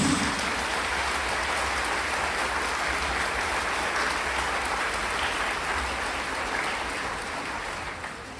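A church congregation applauds for Jesus during a Spanish-language service led by a spiritual father, a dense, even wash of clapping that holds steady for several seconds and then tapers slightly toward the end.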